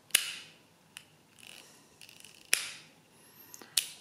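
Wing-nut clearing mechanism of a Thales A pinwheel calculator turned through a full revolution, giving a series of sharp mechanical clicks and ratcheting snaps spaced unevenly, close and fairly quiet with no talk.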